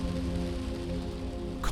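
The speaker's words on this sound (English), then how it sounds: "Constant sound of the rain slapping the CarHouse made for a very bad sleep" Rain drums steadily on the metal roof of a car used as a shelter, a dense, even patter that stays close and constant throughout, with no voices.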